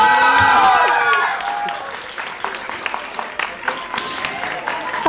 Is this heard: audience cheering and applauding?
yes